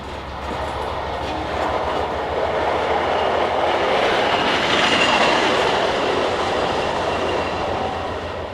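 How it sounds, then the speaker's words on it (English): A freight train on the Albany & Eastern Railroad eases forward near Albany, rumbling steadily with a low continuous roar and faint rhythmic clatter of wheels, fairly loud and unbroken throughout. "With the train now easing forward"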